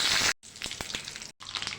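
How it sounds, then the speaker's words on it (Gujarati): Mustard seeds splutter and pop in hot oil in a pan while tempering for methi bajra muthiya, a close steady sizzle broken by sharp crackles and two brief gaps. "આપણી રાઈ ફૂટવા માંડી છે"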